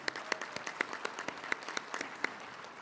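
Audience applause at a tribal State of the Band address, fairly faint and distant, with a thin, scattered texture where separate hand claps pop out at irregular intervals throughout.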